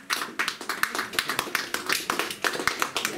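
Church congregation claps in quick, loose rhythm, a dense run of close hand claps with sharp, regularly spaced peaks for about three seconds.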